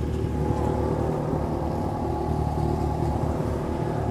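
Motorcycle on a muddy rural road in the rain, its engine rumbling steadily and fairly close, a continuous low drone without talk.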